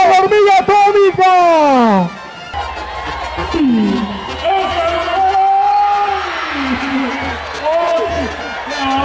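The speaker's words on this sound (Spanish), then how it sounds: "¡Vamos, le damos un fuerte aplauso a la hormiga atómica!" Crowd cheers and applauds for a bull rider at a Nicaraguan bull-riding event, a loud, continuous roar of many voices that stays under a booming announcer's voice throughout.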